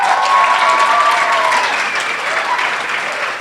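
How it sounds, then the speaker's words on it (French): An audience at an evening association event breaks into steady, sustained applause, a dense even clatter of many hands that holds throughout and eases slightly at the end. "Larissa, la directrice du groupe Ishaka, s'il vous plaît, par votre applaudissement."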